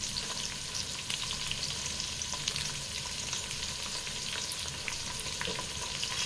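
Onion and garlic paste frying in a pan for a prawn tamarind curry, giving a steady, dense, close sizzle that holds evenly throughout with no voices.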